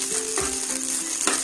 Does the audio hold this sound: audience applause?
no